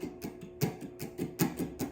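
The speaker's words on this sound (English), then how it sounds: "play ghost notes with your right hand, which just means you're strumming the whole time" Continuous muted guitar strumming with ghost notes: rapid percussive scratchy strokes in a steady rhythm, about eight per second with louder accents recurring, close and fairly soft, with no talking.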